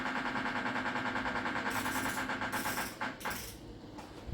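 Lidl Silvercrest steam cleaner running out of water, a rapid rattling, pulsing buzz close by with sputtering bursts of hissing steam in its second half.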